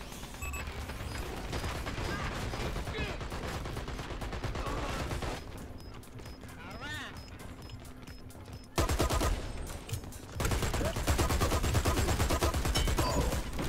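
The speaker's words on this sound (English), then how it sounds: "All I hear is a turret, and the turret should be right here." Automatic turret fire in the shooter game Dirty Bomb, dense rapid bursts of gunfire with mechanical clatter, pausing briefly midway before resuming loud and close.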